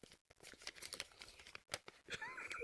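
Paper slips rustle and crumple as hands draw them from a box, giving a series of close, crisp crinkles and tears in irregular bursts.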